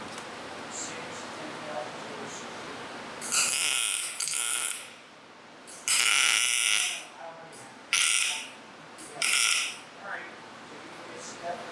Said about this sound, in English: I'm going to weld right on top of that area that I just ground.